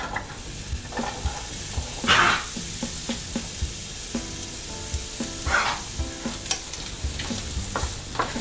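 Chopped whole onion sizzling in hot oil in a pan, with a steady frying hiss and intermittent scraping stirs and clinks of a utensil against the pan, close and alone without talk.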